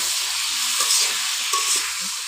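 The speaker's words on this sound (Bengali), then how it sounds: "এবার তেলের মধ্যে একটু অল্প সময় ভেজে নেব আমার টমেটোগুলো" Tomatoes and mango pieces fry in oil tempered with mustard seeds, giving a continuous even sizzle with faint stirring movements underneath and no voices.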